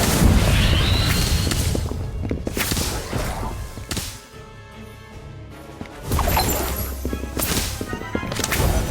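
Fiendfyre spell cast in a Harry Potter video game: a loud, dense roaring blast of magical fire with booming crashes, a brief lull midway, then a renewed surge.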